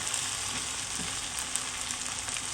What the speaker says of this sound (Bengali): তেলের উপর মশলাগুলো সুন্দর কষানো হবে